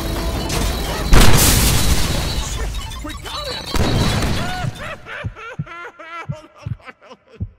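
Grenade explosion in the Deadpool video game, a loud booming blast with crashing debris and rumble lasting a few seconds, followed by quieter game sounds and voices.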